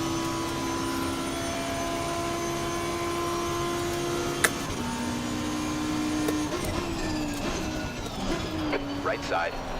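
Race car engine in a sim racing game, humming steadily at a constant pitch. The pitch drops after a sharp click partway through, then the engine revs and shifts through rising and falling tones. The sound is moderately loud and continuous.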